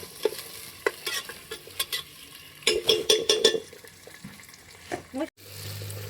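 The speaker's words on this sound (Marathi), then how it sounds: "आता कांदा चांगला तळून द्यायचा. कांदा चांगला फ्राय करून." Chopped onions, four of them, fry in a pan over a wood-fired village stove, the sizzle punctuated by repeated scraping stirs and clinks of the utensil, with an abrupt cut near the end.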